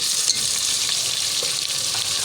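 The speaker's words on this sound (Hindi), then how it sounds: "हमारा चिकन फ्राई हो रहा है" Chicken frying in a pan with onion and tomato, a dense, steady bright sizzle that holds evenly throughout with only a few small stir-like bumps, loud and close with no voices.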